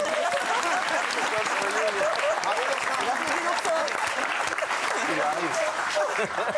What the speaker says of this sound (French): On applaudit l'oursin.